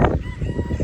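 Wild chickens on Kalapaki Beach, Kauai, Hawaii, make short close clucking and honking calls in a quick run of about a second.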